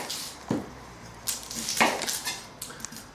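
A knife cuts through an onion on a chopping board in a few sharp, separate chops with quiet pauses between them, close and fairly crisp, with no voices.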